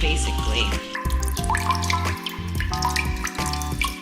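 Sea moss is rinsed under a running faucet, with water splashing and gurgling into a sink in uneven bursts while a person talks over it.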